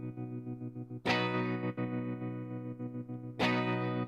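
A sustained synth tone with a slowly wandering, non-repeating modulation run at a faster rate, producing uneven wobbles and two sharp bright swells, loud and alone with no voices.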